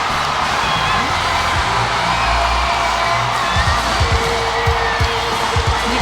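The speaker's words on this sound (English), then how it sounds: "You can hear the crowd." A crowd at a taekwondo team championship roars and cheers at the end of a match, a loud, sustained wash of shouting and whooping with some low thumps underneath.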